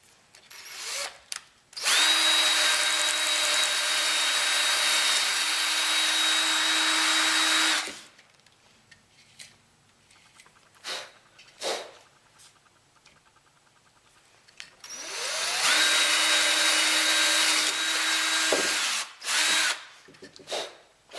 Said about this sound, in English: So basically you're going to drill 2 holes on either side of the center hole.